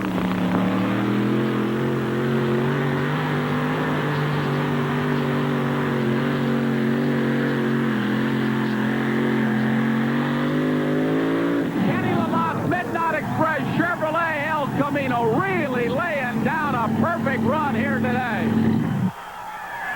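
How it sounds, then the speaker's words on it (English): A powerful Aries engine in a two-wheel-drive pulling truck at a 1988 NTPA truck pull in Tomah, Wisconsin roars steadily, then revs and surges with rising and falling pitch as it strains under load, loud and close. "Let's see if he can make a hot run here on the track with this big Aries engine, the Midnight Express, Kenny Lamont."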